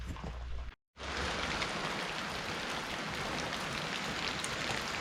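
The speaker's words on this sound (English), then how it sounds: "It's raining, it's nighttime" Steady rain pours down at night as a dense, even hiss that fills the whole clip. It stops for a split second near the start, then carries on unbroken.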